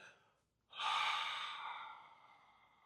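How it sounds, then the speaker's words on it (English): One long, breathy open-mouth exhale, starting abruptly and fading slowly over about two seconds, close and fairly soft, following a faint earlier breath. "you're going to get a long open mouth exhale"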